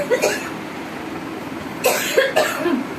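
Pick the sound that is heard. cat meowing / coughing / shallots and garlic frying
coughing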